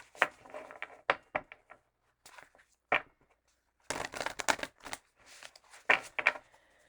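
Intermittent tarot-card shuffling bursts, papery riffles and slaps coming in short clusters with quiet gaps, close by and fairly soft.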